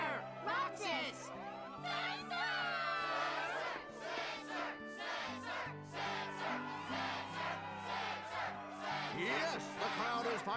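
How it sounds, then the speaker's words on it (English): A video game crowd cheers and chants at a Struggle match in Kingdom Hearts, a loud, sustained roar of many voices with rhythmic chanting over a steady musical backing. "Yes, the crowd is fired up"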